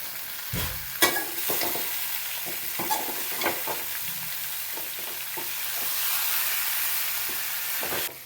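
Scraping and stirring of tapioca in a frying pan with a steady sizzle underneath, spoon knocks coming every second or so, close by.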